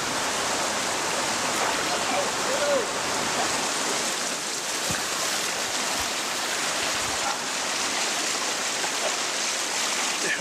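Heavy rain and a swollen, rushing river make a dense, steady roar of broadband noise that stays loud and even throughout.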